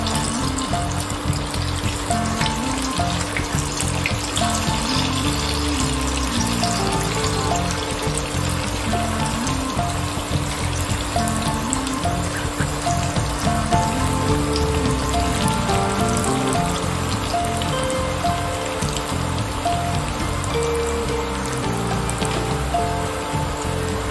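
Steamed cabbage vadi fry in a pan of hot oil with a dense, continuous sizzling crackle that stays steady and close throughout, with no talk over it.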